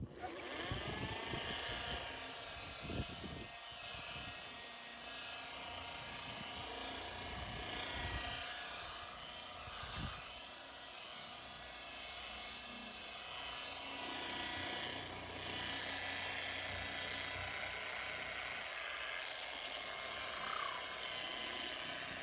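Rotary polisher buffing the plastic headlight lens of a 2008 BMW 550i during headlight restoration, a steady close motor whine running throughout with a few brief bumps and dips, no talking.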